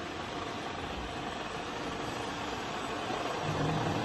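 A Sip Hydroptic 6 jig boring machine spindle running at increased speed gives a steady, dense mechanical whir, loud and continuous, holding level throughout with a slight swell near the end.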